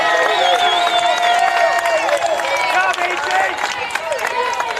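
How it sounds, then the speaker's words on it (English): Basketball fans at a state championship game between Riverton and Jackson clap and cheer for a player who has fouled out, a loud crowd roar mixed with squeaking sneakers that fades slightly near the end. "he'll get a round of applause from the Jackson fans behind us"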